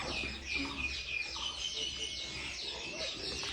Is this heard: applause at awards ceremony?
no